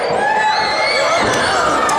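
An open-hand wrestling chop to the chest in a WPW match, one sharp smack heard through continuous loud crowd noise and cheering.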